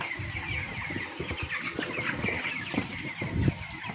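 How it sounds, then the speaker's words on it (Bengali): Broiler chickens on a farm in Natore, Bangladesh, cluck and squawk amid a busy, noisy backdrop of the flock at close range. "বাহ, মুরগিটা তো অনেক সুন্দর।"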